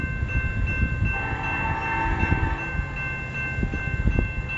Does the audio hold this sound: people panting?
no